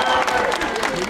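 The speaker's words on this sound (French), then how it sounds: "on peut l'applaudir" Applause from a crowd at a town hall reception in Aulnay-sous-Bois, honoring footballer Alou Diarra: a loud, steady wash of dense clapping filling the whole short stretch, with a few voices mixed in.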